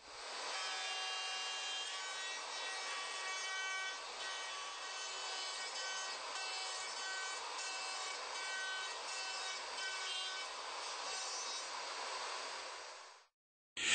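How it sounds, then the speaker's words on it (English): Router fitted with a straight bit and template guide bush cutting through-dovetail pins in a wooden board on a Leigh dovetail jig, a steady high-pitched whine with grinding cut noise running continuously and loud, alone, before stopping abruptly at the end. "The same template guide bush and included straight bit follow the angled surfaces of the guide fingers to form the"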